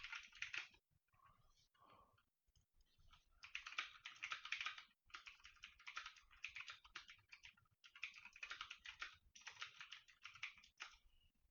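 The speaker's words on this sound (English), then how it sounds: "I'm going to go ahead and type on the keyboard" Rapid typing on a computer keyboard picked up by a JBL Quantum 800 headset microphone, a steady clatter of soft key clicks in bursts with brief pauses, heard quietly up close.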